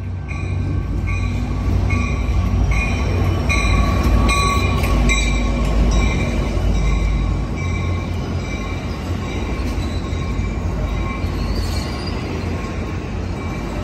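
Steady rumble of the lead engine of an out-of-service Amtrak San Joaquin passenger train idling close by at Oakland Jack London Square station, with a continuous low drone and faint metallic squeals, no voices.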